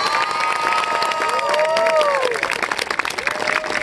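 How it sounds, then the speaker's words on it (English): A crowd at a marching band show applauds and cheers loudly, with clapping, shouts and whoops mixed together close by, including some children's voices. "Let's give them a round of applause for a great show."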